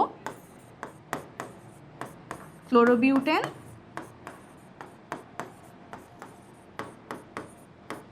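Chalk or marker strokes on a classroom board while a chemistry reaction is written out, a steady run of short sharp taps and scratches with one longer squeaky scrawl midway, close and clear.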